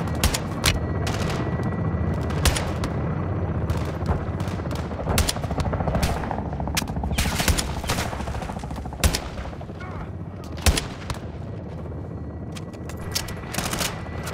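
Dense gunfire from Call of Duty: Modern Warfare II, sharp repeated shots and bursts over a constant loud low battle rumble, with rapid fire clustered throughout.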